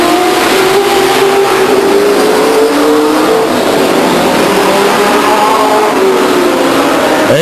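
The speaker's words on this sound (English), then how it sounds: "Good battle up front is the 43 car and the 19 car of Randy Houston battle it out." Stock cars racing at Stockton 99 Speedway, their engines roaring loud and steady as the pack sweeps past, revs rising and falling through the laps with no talk over them.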